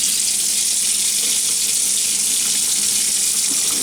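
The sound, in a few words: rinsing radio receiver part under water tap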